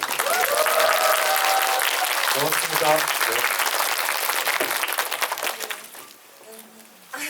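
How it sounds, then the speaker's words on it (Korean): Applause fills a cinema at a post-screening talk for the Korean film Brave Citizen, a loud dense roar of clapping from the crowd that thins near the end before a voice briefly speaks. "우리 고생한 배우들한테 박수 한 번만 다시"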